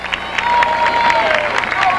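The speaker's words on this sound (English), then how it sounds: "Central crowd comes to its feet once again" Stadium crowd at a college football game, Central versus Wartburg, roaring and cheering continuously with scattered clapping, a broad steady wall of noise with a faint whistle-like tone running through it.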